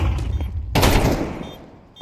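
Tec-9 gunfire in a Counter-Strike esports match: a sudden loud burst of rapid shots that rings out and decays over about a second, preceded by quieter in-game ambience.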